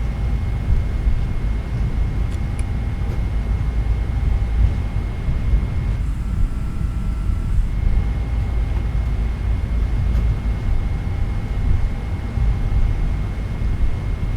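A PMDG Boeing 777-200ER with Rolls-Royce engines on a chilly night takeoff from Anchorage runway 33 in Microsoft Flight Simulator: a steady, loud engine roar with faint whining tones, heard continuously throughout.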